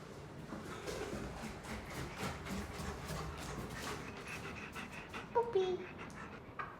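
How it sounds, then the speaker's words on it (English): A puppy panting in a rapid, steady rhythm of short breaths close by indoors, ending with a few soft whimpers. "Puppy."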